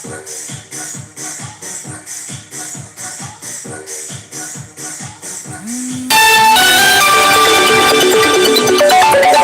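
A mobile phone ringtone starts partway through and plays loud and steady, with a repeating rhythmic pattern before it.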